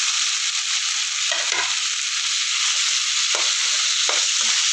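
Mushrooms stir-fry in a pan for a mushroom gravy, giving a steady close sizzle throughout with a few soft scraping stirs and no talking.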